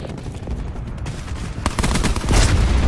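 A Hellstorm missile strike in Call of Duty Black Ops lands as a run of loud explosive bursts and crackling blasts, building heavier in the final second over a constant rumbling bed.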